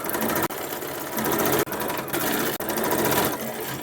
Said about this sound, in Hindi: बिल्कुल ऐसे पकड़ते हुए सीधी सिलाई लगा लेंगे